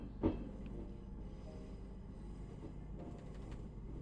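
A ScotRail-liveried train runs in the Roblox game British Railway, a steady low rumble of wheels and motor throughout, with a short brief knock near the start and faint higher clicks later on.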